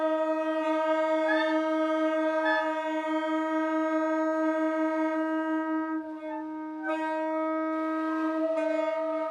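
Clarinets and saxophones sustaining the fourth note, C, together in a woodwind class, a steady held unison tone lasting several seconds with slight wavering and a short dip near the end.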